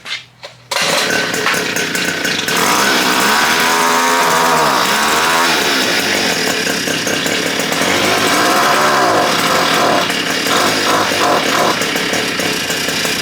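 A Wheelman Bushpig motorized skateboard's small gas engine revs hard and steadily during a burnout, loud and close, with a brief thump before the sustained whining roar and fluctuating pitch.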